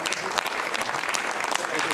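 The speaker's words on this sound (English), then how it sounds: "Lots of clapping." A crowd claps and applauds continuously at the Ariane 6 rocket's first flight, a dense patter of many hands, with voices faintly mixed underneath.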